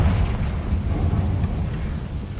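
A Confringo fire spell explodes in Hogwarts Legacy, a sustained, heavy low rumble of blast and debris that rolls on steadily without a sharp break, close and loud, with no talking over it.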